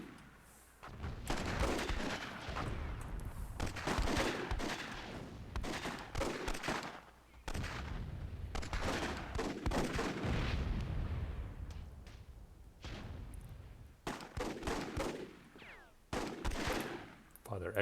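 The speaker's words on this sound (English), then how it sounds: "Ooh, some RPG explosion happening over there." RPG explosions and gunfire in the strategy game Myth II: Soulblighter during a WWII-themed tournament battle: dense, rumbling blasts and crackling shots pile up almost continuously, with brief lulls, and stay fairly distant.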